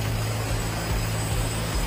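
A Philippine Air Force attack helicopter gives off a steady, loud drone of rotor and engine noise that holds unbroken throughout, with no voices.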